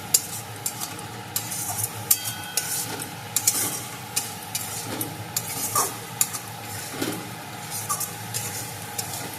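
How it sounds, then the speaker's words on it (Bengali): A spice masala with Kashmiri chili powder, for a potato and cauliflower curry, fries in oil with a steady sizzle as a metal spoon repeatedly scrapes and taps the pan in irregular strokes. "মশলাটাকে আমি খুব ভালো করে কষিয়ে নেব।"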